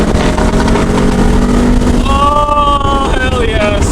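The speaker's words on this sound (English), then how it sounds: "that Porsche sounds amazing. Listen to that." A Porsche supercar on a road rally revving hard nearby, its engine note rising in quick climbing sweeps over heavy wind rumble, with a voice talking over it.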